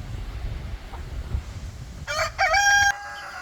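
A rooster crows once from a chicken coop holding Delaware broilers and dark Cornish birds, clear and fairly close above a low background murmur and scuffling.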